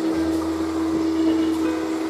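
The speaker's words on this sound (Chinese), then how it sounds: "大吸尘器在这儿" A large vacuum cleaner runs steadily inside a camper van at an RV workshop, giving a continuous even drone at a close distance, with no talk.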